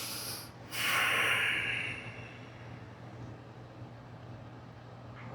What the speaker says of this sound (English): Take a deep inhale and an exhale.